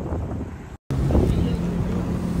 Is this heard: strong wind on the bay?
yes